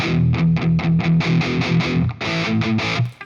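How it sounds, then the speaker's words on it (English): Electric guitar through the crunch channel of an EVH amp at low gain, playing a rhythmic riff of repeated picked chords with mild distortion, loud and close, no talking. "I'm playing on the blue channel on my EVH. So that's kind of the crunch channel, and I have the gain at about 11 o'clock."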